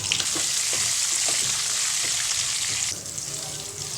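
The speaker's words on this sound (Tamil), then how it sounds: "முட்டையை வறுத்து வச்சு எடுத்துடலாம்" Eggs seasoned with salt and turmeric fry in hot oil, giving a loud, dense crackling sizzle with a few stirring taps that drops to a quieter hiss near the end.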